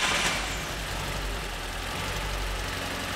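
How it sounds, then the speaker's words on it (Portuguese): A car engine is cranked and then runs while a pressure transducer reads cylinder compression, giving a dense, steady mechanical roar with a low rumble that stays loud throughout. "vamos dar a partida no motor"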